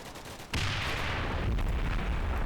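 Tank gunfire in the wargame Combat Mission: Black Sea, a sudden loud boom that opens into a sustained rumbling roar with crackling, heavy and close, no voices.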